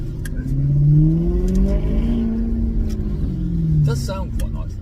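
A Maserati GranTurismo S engine and exhaust pull strongly through acceleration, a loud sustained rising drone from inside the car on a busy road, with a voice speaking over it.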